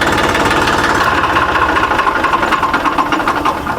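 A tractor engine runs steadily and loudly up close, a continuous low mechanical rumble with rapid knocking pulses throughout and no let-up.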